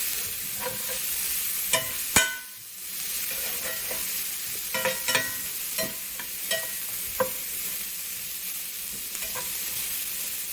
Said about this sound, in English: So go ahead and give us another stir.